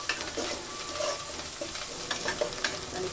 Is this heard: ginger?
yes